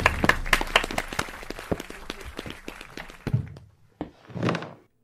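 Small audience in a radio studio welcoming a guest with a short burst of sparse, close hand claps that thin out into a few thumps and rustles, with a brief murmur at the end.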